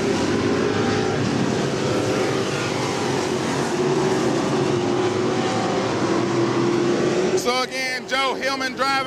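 Race cars roar around the short oval at Senoia Raceway during a nighttime race, a loud continuous engine drone passing close, with a commentator talking over the cars near the end.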